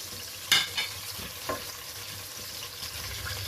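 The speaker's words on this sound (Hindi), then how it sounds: "इसको मैं उस वक्त तक भूनूंगी जब तक कि लहसुन अदरक की खुशबू जो है वो ख़त्म नहीं हो जाती।" Meat fries in a pan with garlic and ginger while a spoon stirs, giving a soft steady sizzle broken by a few brief scraping clacks near the start, fairly quiet with no voices.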